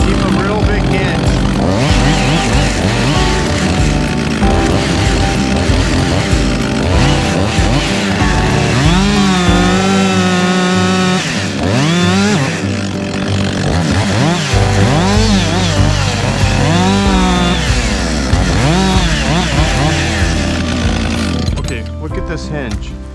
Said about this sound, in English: I'm going to keep this saw running in the back cut